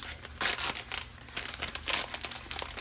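Plastic bags of sharp shredded cheese are crinkled and torn open in a home kitchen while making mac and cheese, a close series of irregular rustling crackles.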